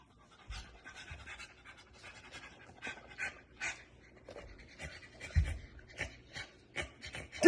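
Dog panting close up in a quick, steady rhythm of soft breathy puffs, with a few low thumps and rustles mixed in.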